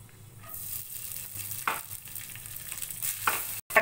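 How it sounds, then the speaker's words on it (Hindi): Green chillies and bay leaves frying in oil in a pan for veg pulao, giving a steady soft sizzle with occasional stirring scrapes and louder bursts, close by and with no talking. "इसमें हम थोड़ी सी हरी मिर्च डाल देंगे और इसे अच्छे से फ्राई करेंगे।"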